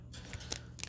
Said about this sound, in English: Cut the top off.